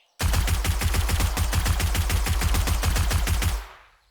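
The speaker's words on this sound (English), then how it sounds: "I really love this dev gun they got. This instant death pistol." A fully automatic dev gun pistol from 7 Days To Die fires without pause, a loud, close, rapid stream of shots that runs for a few seconds and then cuts off, leaving a short fading tail.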